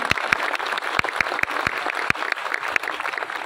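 Applause after a presentation at a hijama (cupping) medical symposium: scattered clapping from a modest audience, steady and fairly close, with sharp individual claps standing out against a soft murmur.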